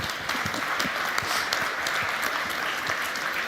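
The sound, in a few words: audience applause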